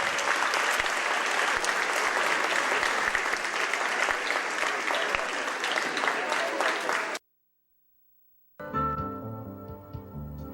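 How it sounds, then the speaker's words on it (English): A crowd at a high school basketball game applauds the Uniontown Red Raiders, loud dense clapping for about seven seconds that cuts to silence before music begins. "Let's give one Uniontown more round of applause."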